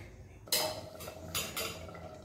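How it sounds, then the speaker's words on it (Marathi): A lid goes onto a pan of cooking chuka and dill leaf vegetable: one loud metallic clank, followed by a few lighter clinks as it settles, close by with no talk. "आता यावरती आपण झाकण ठेवूयात।"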